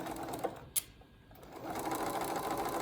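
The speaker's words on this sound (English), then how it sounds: "I'm going to start at the thick end of the dart, all the way out in the seam allowance, back stitch a little" A sewing machine stitches a dart, starting at the thick end out in the seam allowance with a short backstitch: a couple of sharp clicks, then a steady close whirring run of stitching that continues to the end.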